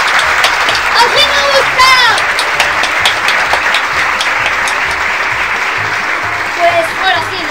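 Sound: television studio audience applauding

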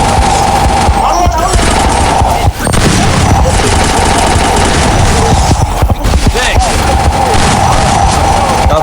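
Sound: grenade explosion and gunfire in the video game Free Fire

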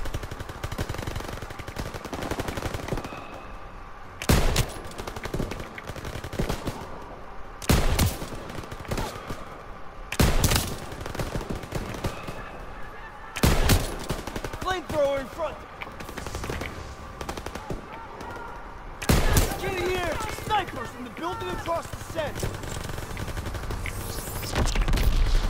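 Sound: machine gun fire in video game Call of Duty WWII

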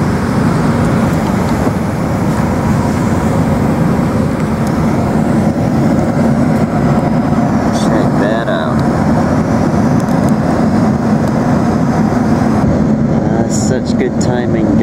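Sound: passenger airplane taking off

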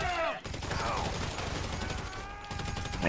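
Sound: gunfire in the video game GTA 5

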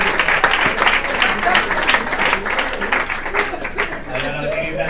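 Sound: audience applause at stand-up comedy show

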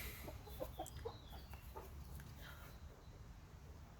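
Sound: hens clucking

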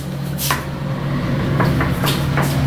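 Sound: sliding bathroom door being closed and locked

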